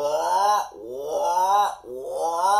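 A voice imitates the call of a dumpy tree frog with three drawn-out, moaning "wah" sounds in a steady rhythm, close and fairly loud.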